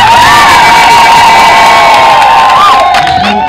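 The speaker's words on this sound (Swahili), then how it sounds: "Naomba jipigieni makofi" Loud crowd at an outdoor health-centre foundation-stone ceremony in Mtwango, cheering, whooping and shouting continuously with children's voices prominent, close and sustained throughout.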